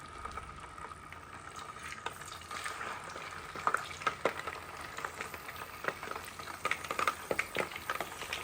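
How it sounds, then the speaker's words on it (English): Tilapia frying in hot oil in a frying pan, a continuous crackling sizzle with scattered sharp pops at close range. "So as soon as it heats, I start with my tilapia frying."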